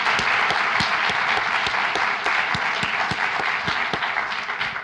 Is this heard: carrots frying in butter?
no